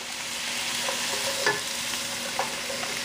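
Celery, carrot and yellow peppers stir-fried in a pan, giving a steady broad sizzle with a few soft scraping stirs around the middle and near the end, close and continuous, with no voices.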